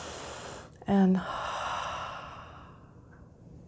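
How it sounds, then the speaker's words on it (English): A person takes one deep, audible breath in during a calm guided relaxation exercise, a brief close airy inhale after a soft spoken word, then quiet room tone. "So breathing in"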